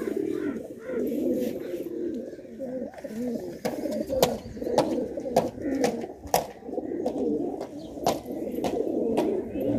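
Pet pigeons coo in low, soft, repeated throbbing calls among a loft of male birds, with sharp clicks and flutters scattered throughout and a voice talking at times.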